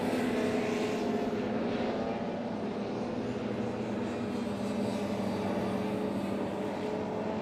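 Formula One class racing hovercraft cross the finish line at a Rother Valley hovercraft race meeting, making a loud, steady propeller-and-engine drone that holds close and even throughout, with no speech.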